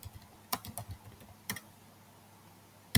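Keys clack on a computer keyboard in a short cluster, then a single strike and a final tap after a quiet pause. The keystrokes are crisp and close, with no talk.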